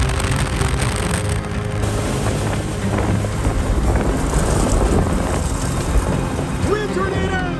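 Tornado wind from a red funnel cloud crossing I-29, a loud steady roar with heavy buffeting against the microphone, sustained throughout with faint talk underneath.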